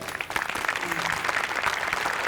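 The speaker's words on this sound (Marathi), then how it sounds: "दोघांसाठी टाळ्या." An audience on a Marathi comedy show claps in continuous, dense applause throughout the brief moment, close and fairly loud.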